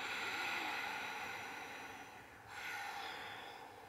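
Long, steady hiss of a slow exhale during a yoga breathing practice, close and fairly soft, with a brief dip and renewed breath partway through.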